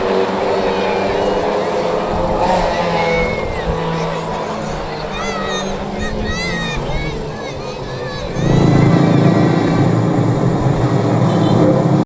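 Pro Stock stock cars roar past at Cowdenbeath Racewall, a continuous loud engine rumble with rising and falling revs, growing heavier near the end as the field comes through, under a commentator's voice.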